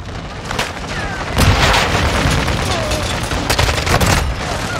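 Dense gunfire crackles in a close-quarters match of Modern Warfare 2 on the Shipment map, with smoke and knifing nearby: rapid overlapping shots and bursts run almost continuously, loud and close, with a few heavier booms.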